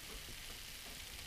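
Food crackles and sizzles steadily in boiling oil while frying, a dense, even hiss with fine popping that carries on without a break.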